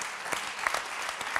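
An audience at a round-table forum applauds steadily, with dense clapping that holds at an even level throughout the short burst.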